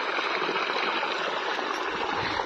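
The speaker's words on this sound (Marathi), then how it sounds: "इथं चालू आहे पाईपलाईनचं पाणी इकडं शेतात जातं" Steady rushing flow of pipeline water pouring into a wheat farm field, continuous and fairly loud throughout with no talk.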